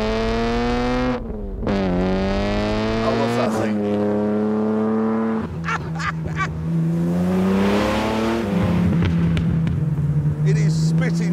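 A car engine rises through several revving pulls, each climbing in pitch and then dropping between gear changes, loud and close, with a brief spoken remark over it.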